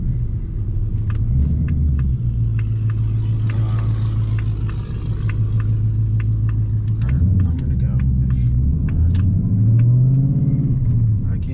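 A car drives along with a steady low rumble and engine hum, shifting pitch slightly as it changes speed, with faint clicks and a voice at times.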